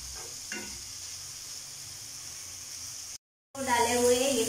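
Chopped cabbage frying in a pan for vegetable noodles makes a steady, moderate sizzle with a few faint stirring scrapes, then a brief cut to silence before a louder, busier sizzle resumes nearby.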